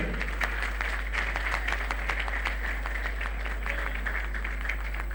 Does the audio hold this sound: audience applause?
yes